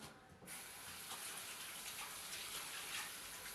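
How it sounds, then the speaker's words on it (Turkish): Tomato paste sauce poured from above over stuffed peppers in a home kitchen, a steady continuous liquid pour that starts after a brief pause and runs evenly and fairly close, with no talking. "Şuna bir salçalı sos yapayım. Tepesinden aşağı dökeyim."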